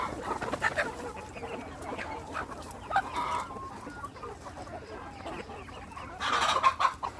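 Farm chickens cluck and squawk nearby as they peck at fresh curry leaves thrown to them, with irregular bursts of clucking and a few louder calls over quiet outdoor background.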